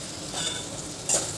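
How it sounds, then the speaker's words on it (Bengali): Onions frying in a pan while fish curry is being cooked, a soft continuous sizzle with a brief louder flare of hiss near the end, close and alone. "পেঁয়াজগুলো ভাজা হয়ে গেছে"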